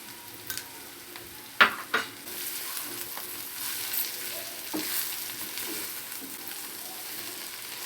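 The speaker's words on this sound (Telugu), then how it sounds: "కారం వేసుకొని కొంచెం బాగా కలుపుకున్నాక మళ్ళీ రోస్ట్గా వేగిపోయిందండి" Bitter gourd frying with chili powder in a pan, a soft steady sizzle with a couple of sharp spatula knocks early on, then gentle stirring, fairly quiet and close.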